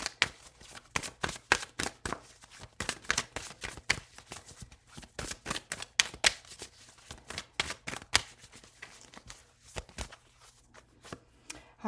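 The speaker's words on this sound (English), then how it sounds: "We're going to pull 3 cards." Deck of cards being shuffled before drawing three, a rapid run of crisp riffling and slapping bursts in uneven rhythm, close up and unaccompanied by voices.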